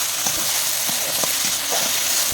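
Fish frying in a little oil with salt and turmeric, a steady close sizzle with soft crackles and occasional stirring clicks, no talking.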